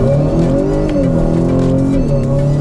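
A 2020 Acura RDX engine revs loudly and close up, its pitch climbing, dipping briefly at a gear change, then pulling up again. The sound is heard on its own, with no talking.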